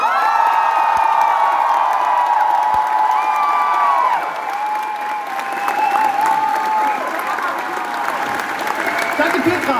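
Applause, cheering and whoops rise from a crowd at an anime convention concert, Dokomi 2024, with bright shouting voices over steady clapping that eases slightly partway through.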